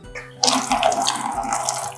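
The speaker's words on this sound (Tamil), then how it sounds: "இது இப்படி ஓப்பன் பண்ணனா தண்ணி வரும்." Water gushes out of the opened drain tube of a semi-automatic filter coffee machine, starting suddenly and then splashing steadily and loudly close by.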